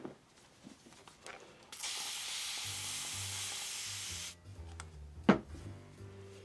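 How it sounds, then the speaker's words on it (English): A new spray bottle being squeezed gives a steady, close hiss of fine mist lasting a few seconds, then stops, followed by a sharp tap and soft handling noises. "New spray bottle."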